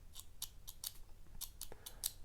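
A budget Swiss-made ballpoint pen clicks repeatedly, about ten sharp, light clicks in an uneven rhythm, close and isolated with no talking.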